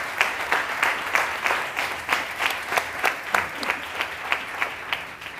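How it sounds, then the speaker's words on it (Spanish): An audience applauds at a televised talk with two guests, giving a steady wash of clapping with sharp, rhythmic claps on top, moderately loud and free of talk. "Un aplauso para los dos"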